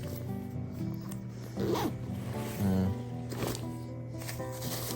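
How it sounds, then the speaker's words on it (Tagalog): A clothing zipper is pulled open and closed several times up close, with quick rasping runs and short pauses between strokes, and no one speaking. "May zipper pa dito, oh."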